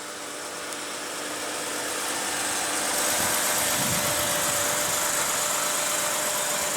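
A 2008 Lexus GS350 with a 3.5 L V6 idles, heard as a smooth, steady engine hum that grows a little louder and then holds, with no voices present.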